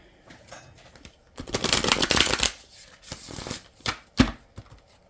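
A deck of playing cards being shuffled by hand, a loud riffling burst followed by several shorter flicks and taps, close and clear with no talking.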